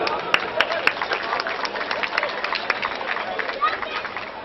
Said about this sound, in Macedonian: Еден аплауз се за нив.